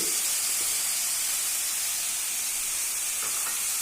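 Steady, loud hiss and sizzle of ground spices being sautéed in oil in a pan for a green peas curry, an even frying sound throughout with no speech.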